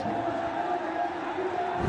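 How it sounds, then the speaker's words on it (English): Dense, roaring crowd noise from spectators at a Bangladesh versus Australia T20 cricket match, cheering a boundary, heard as a continuous wall of sound over the whole stretch. "The crowd are delighted with this very positive response from the Bangladeshi boys."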